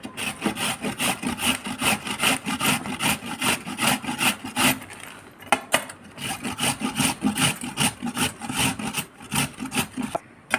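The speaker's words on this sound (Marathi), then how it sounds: "हे पहा असे किसणीने किसून घ्यायचे चांगले पुसून" Fresh amla (Indian gooseberry), washed and wiped dry, is grated on a hand grater in quick rhythmic rasping strokes, close and steady, with a short pause midway.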